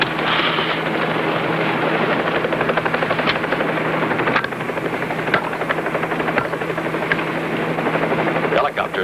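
A helicopter in flight, its rotor beating in a steady, loud, continuous drone with dense chopping pulses that stays close for the whole stretch.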